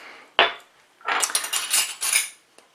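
A metal teaspoon measuring cinnamon into a bowl for gluten-free vegan waffle batter: one sharp clink, then a quick run of scraping, tapping metal-on-bowl clatters, close and clear with no talk.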